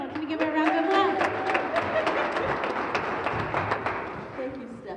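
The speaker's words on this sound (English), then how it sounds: "can we give her a round of applause?" Audience applause after a speaker at the opening ceremony of the Dorchester Winter Market, a steady spread of clapping that carries on for several seconds with voices and cheering mixed in, fading slightly toward the end.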